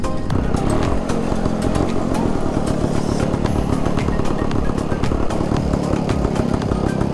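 Old motorcycle engines idle and rev loudly and close at a veteran motorcycle meet, running as a constant, throbbing drone.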